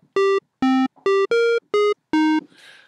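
Square wave tones from a Thor wavetable oscillator in Reason, six short bright buzzy synth notes played staccato at varying pitches, followed by a faint hiss.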